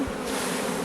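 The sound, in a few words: honeybees buzzing calmly around hive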